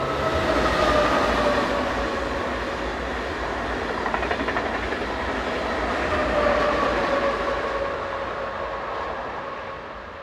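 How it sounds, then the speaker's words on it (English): TGV high-speed train set on a Paris to Zurich service rushing past at a station, a sustained loud roar with faint wheel clatter, swelling and then slowly fading. "TGV set number 4724 was next on the scene, forming the 1023 from Paris to Zurich."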